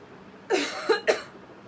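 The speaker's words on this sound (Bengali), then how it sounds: "ওরে বাপরে, হঠাৎ করে তো কাশি হয়েছে।" Three sudden coughs in quick succession from one person, close and fairly loud, with quiet pauses between them.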